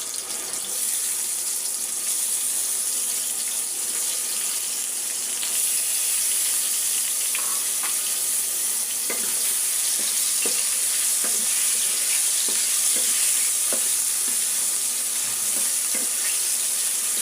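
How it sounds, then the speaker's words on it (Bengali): Salt-and-turmeric coated shing fish fries lightly in a pan, producing a constant loud hiss of sizzling oil with scattered soft clicks and scrapes as it is moved. "এবার এর মধ্যে লবণ হলুদ মাখিয়ে রাখা মাছটাকে দিয়ে হালকা করে ভেজে নেব"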